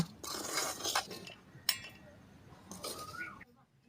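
Metal utensil scraping and clinking in a pan while fried onions and other ingredients for a Tamil country chicken curry are stirred together, several close bursts of clatter with a sharp knock partway through.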